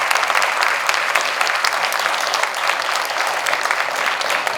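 Steady, dense applause from an audience honoring school board members at a district service academy night, broad and sustained with no break throughout.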